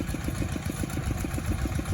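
A 9.5-horsepower walk-behind tractor, model 95, idles near a rice paddy, its engine thumping in a quick, even rhythm at moderate loudness with no one talking over it.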